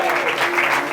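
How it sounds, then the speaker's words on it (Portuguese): A church congregation claps in praise during an evangelical service, a dense continuous applause filling the hall with a voice faintly beneath. "As palmas louvem a Jesus."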